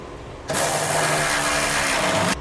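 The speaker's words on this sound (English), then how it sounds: "now we'll tighten down the bolts that hold our side plates to the frame" A power tool tightens the bolts holding gooseneck hitch side plates to the frame of a 2012 Ram 3500, making one loud continuous whirring, rattling burst of about two seconds, heard up close.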